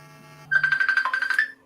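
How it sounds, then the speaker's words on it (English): A telephone rings with a bright, warbling electronic trill in short rapid pulses, lasting about a second, loud and close after a brief quiet tone. "That's the phone. I'll answer that."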